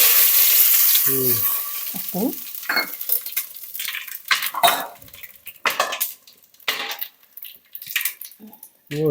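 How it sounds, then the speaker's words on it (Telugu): Whole spices dropped into hot oil for Telugu bagara rice, a loud opening sizzle settling into intermittent stirring scrapes and clinks of a pan, with brief voices talking in between. "మసాలా దినుసులు వేస్తున్నా"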